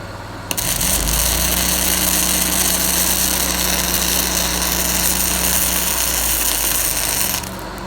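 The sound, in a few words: Miller Trailblazer 325 EFI engine-driven welder running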